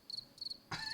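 Crickets chirp in short rhythmic bursts, three pulsing trills in quick succession, the last one louder and fuller, standing alone with nothing else in the background.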